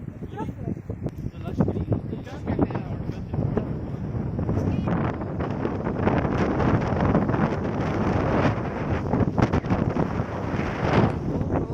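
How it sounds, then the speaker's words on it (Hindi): Strong wind buffets the microphone in a steady, heavy roar at Yuanmingyuan Park in Beijing, with someone talking over it throughout. "बहुत तेज हवा चल रही है।"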